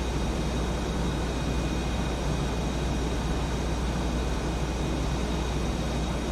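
Steady, unbroken roar of a Harrier jet engine in a flight combat video game, a constant loud broadband rush with a faint high whine, heard alone without talk.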